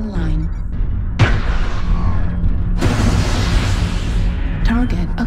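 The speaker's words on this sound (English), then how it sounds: "Airstrike online." Airstrike explosions in a mech combat video game hit as two heavy, broad booms a second or so apart, loud and close, over a continuous low mechanical rumble with a synthetic voice speaking.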